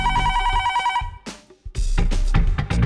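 A telephone rings repeatedly in an office with a loud, steady electronic tone that stops briefly and is then followed by further loud sound.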